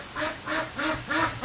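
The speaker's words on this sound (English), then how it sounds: "the duck keep coming in here and quacking" Ducks quack close by on a backyard farm, five loud nasal calls in a steady rhythm with no talk over them.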